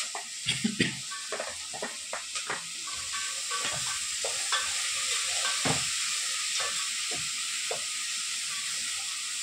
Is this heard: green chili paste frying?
yes